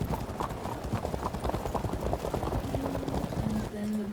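Horse archers' hooves clip-clop steadily in a Field of Glory 2 battle, a dense, continuous patter of many hoofbeats with a brief whinny-like tone near the end and faint game sounds underneath.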